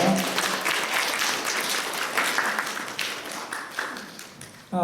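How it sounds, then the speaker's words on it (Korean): A church congregation at a Korean Presbyterian thanksgiving Sunday service claps in warm, sustained applause that tapers toward the end, close and filling the room with no voices over it. "우리 박수 한번 드리죠"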